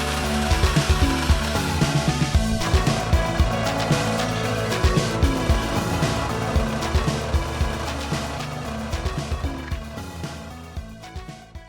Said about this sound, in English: I just cut 2 boards at a time using a jigsaw, and then I took them over to a disc sander in order to smooth it all out.